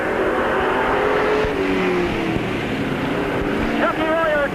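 Race cars roaring around the oval at Peoria Speedway during a late-lap battle, a continuous loud engine drone with pitch sweeps as cars pass, under a track announcer's commentary.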